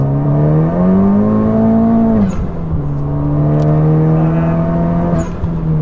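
A modified 420 BHP Honda Civic Type R FK8 mapped on K-tuner holds a loud, steady rev, dips, then climbs and settles into a sustained high whine with brief crackles between.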